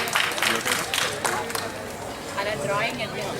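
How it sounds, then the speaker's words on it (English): An audience at a yoga and dharma youth festival in Santa Clara applauds to welcome a speaker onto the stage, with bursts of scattered clapping fading into murmuring and a voice over the room. "can we invite him with a big round of applause?"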